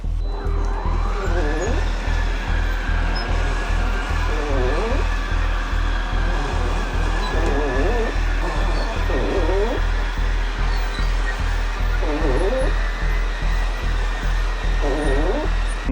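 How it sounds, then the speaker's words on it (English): Electric RV slide-out motors extend a large camper slide while drawing power from an EcoFlow DELTA 3 Max Plus solar generator, giving a steady, close mechanical whine with a rising tone and regular pulsing surges throughout. "Now let's do the big slide, which is going to use extra motors."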